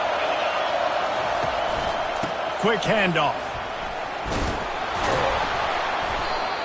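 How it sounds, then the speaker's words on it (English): A home crowd roars steadily at a college football game between Texas A&M and Wisconsin, loud and sustained throughout, with a commentator talking over it and brief whistles and shouts rising from the stands. "how nice is it to have the home crowd going absolutely bananas"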